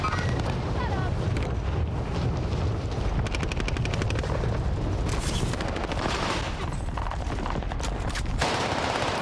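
Cluster strike explosions in Call of Duty Warzone, a dense run of booms and blasts mixed with rattling gunfire and rotor-like drone, loud and continuous over about nine seconds.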